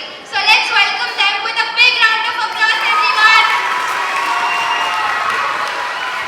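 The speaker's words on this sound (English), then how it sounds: "let's welcome them with a big round of applause, everyone" An audience at a school's 15th anniversary celebration breaks into applause mixed with cheering and shouting. The crowd sounds loud and close, with excited voices throughout.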